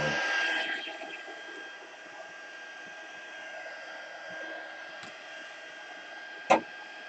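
A heat tool hums quietly and steadily while it melts craft material before stamping. Its airflow is louder at first and then settles into a low whir, with one sharp click near the end.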